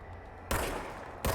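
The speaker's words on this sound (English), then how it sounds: "Now I have a gun. Fire service weapon." Two sharp gunshot bursts from the service weapon in the video game Control on PS5, each a loud broadband blast with a lingering tail, the second cutting in after a short gap over a quiet ambient hum.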